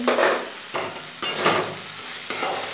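Potatoes and fried bitter gourd stir-fried with spice paste for a Bengali uchhe aloo posto, loud sizzling bursts as the pan is stirred in several strokes, close and without talk.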